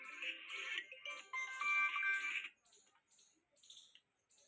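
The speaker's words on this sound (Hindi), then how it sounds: "कौन फोन आ गया यार" A mobile phone rings with a bright melodic ringtone, loud at first for a couple of seconds and then fading to softer repeating chimes, with no talking.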